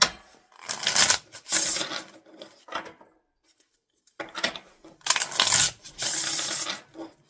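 Tarot cards are shuffled in two bursts of crisp riffling and flapping, with a short quiet pause in between.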